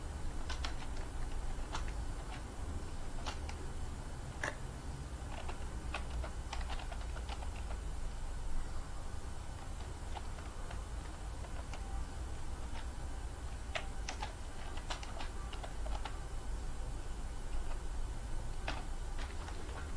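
Typing C++ code on a computer keyboard, a steady stream of quiet, close key clicks in irregular bursts with brief pauses, over a faint room hum and with no talking.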